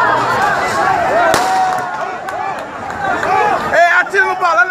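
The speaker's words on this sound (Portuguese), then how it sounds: "rolou tiro! Vixe, tem tiro!" A single sharp gunshot rings out amid a loud street protest crowd in Salvador, Bahia, where an inflatable Pixuleco doll is being destroyed, with people shouting and talking all around.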